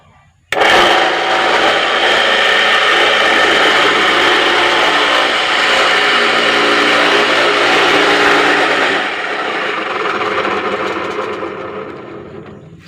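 An electric coconut grater driven by a 0.5 hp single-piece fan motor starts abruptly and whirs loudly and steadily with a mechanical rattle for about eight seconds, then slows and fades.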